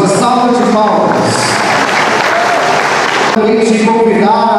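An audience at a ceremony honouring traditional communities breaks into dense clapping that fills the middle of the moment. A speaker's voice carries over the start and end of it.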